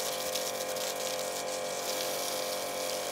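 Pressure washer spray rinsing a Mercedes GLC 63 S, a steady hissing rush of water, constant and fairly faint, with no talking.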